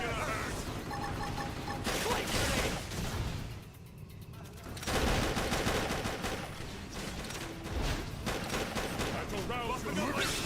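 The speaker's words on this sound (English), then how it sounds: "Just keep shooting this guy in the face." Rapid bursts of gunfire from the video game Xenoblade Chronicles X, set in New LA, come in a dense, continuous battle mix with a brief lull in the middle. Speech can be heard over it.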